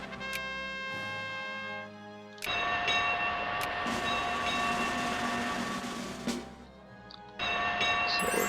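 A steam train in the strategy game Victoria II gives a sustained rumbling rolling noise with a steady horn-like tone, broken by a short drop partway through and returning near the end, with no talk over it.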